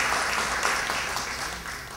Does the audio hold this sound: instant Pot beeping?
no